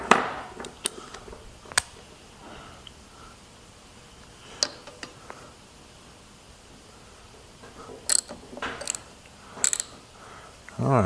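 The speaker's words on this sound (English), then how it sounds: "we'll just simply take a 12 mil on an extension" A ratchet with a 12 mm socket on an extension cracks loose a car engine bolt among the injector lines, giving sparse sharp clicks and short ratcheting bursts at close range, with quiet gaps between them.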